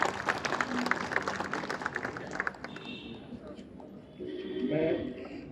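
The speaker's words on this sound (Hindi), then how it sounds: "जोरदार तालियों के बीच में मैं आमंत्रित करूंगा" Loud applause rises from the crowd at an oath-taking ceremony for a state secretariat employees' association, strong at first and then thinning out, while someone speaks over it near the end.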